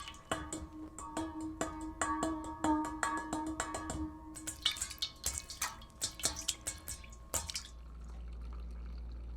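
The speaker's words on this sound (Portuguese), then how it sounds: "Mãos de Márcio tocam a água em uma bacia de alumínio." Hands dabbling and splashing water in an aluminium basin, giving a run of close, distinct drips and small splashes that start rhythmic and steady, then grow more scattered before the sound falls away to quiet.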